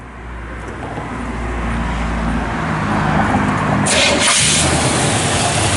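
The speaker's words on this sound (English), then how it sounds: "Thing fires right up." A 1966 Chevrolet C10 shortbox pickup engine cranks briefly, then fires and settles into a strong, steady idle, close and loud with a rising hiss of revs.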